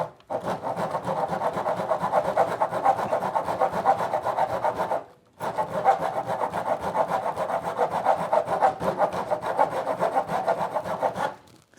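A LENOX folding jab saw fitted with a SAWZALL blade saws through wood in steady rhythmic strokes, loud and close, with one brief pause midway before the rasping cuts resume.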